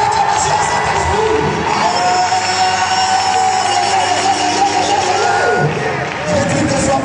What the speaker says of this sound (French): Est-ce qu'on peut donner l'acclamation au Saint-Esprit?